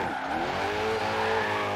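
A car with a 1.4 engine drifting in the racing game Forza Horizon 3: continuous strained engine drone with squealing tyres, loud and close throughout.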